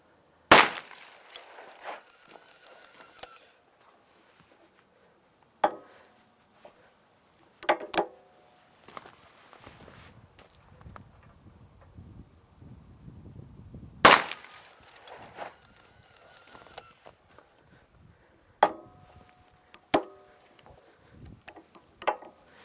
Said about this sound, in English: There you have it, 5 shots.